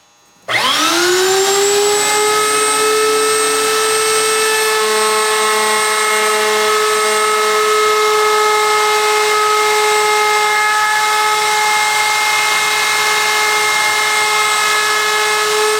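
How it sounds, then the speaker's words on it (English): A router fitted with a round-over bit spins up and holds a steady, loud, high-pitched whine while rounding the wood edges of a camper countertop, running alone without any talk. "Got my little round over bit on my router, and have these both rounded over"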